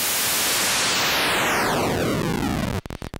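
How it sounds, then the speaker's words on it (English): A Hexinverter VCNO voltage-controlled noise oscillator module sweeps from full-spectrum white noise hiss down to a grainy, lowered rumble, then breaks into a few choppy, stuttering bursts at the end. "So the actual signals we hear in our ears is full audio spectrum white noise."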